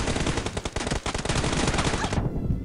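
Rapid automatic gunfire in a PUBG Mobile team deathmatch, loud and dense bursts of shots running for about two seconds before cutting off into background game noise.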